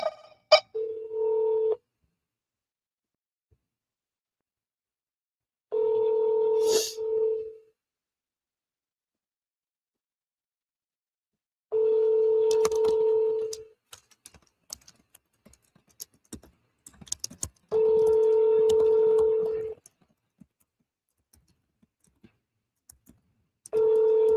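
Telephone keypad tones sound in several short bursts of steady beeps separated by silence, with faint clicks and keyboard-like tapping between some of the bursts.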